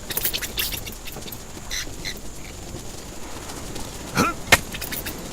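A projectile strikes a rock in the survival game Stranded Deep, giving one short, sharp impact crack near the end over a faint background of ambient game noise.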